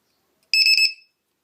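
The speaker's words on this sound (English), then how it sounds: "this will basically just beep when it gets to a voltage which would be problematic for the cells" A small Chinese LiPo low-voltage alarm gives a quick burst of four shrill, rapid electronic beeps, close and clear against silence.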